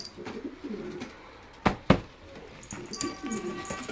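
Paired filo flying pigeons coo in a soft, low, ongoing burble, broken by two sharp knocks near the middle.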